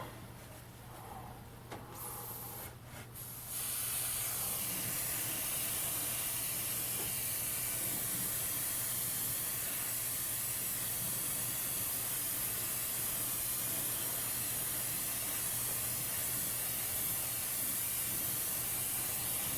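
Spray gun painting the floor pan of a 1965 Dodge Coronet: after a few short hissing bursts, a loud, steady spray hiss runs continuously, close to the microphone.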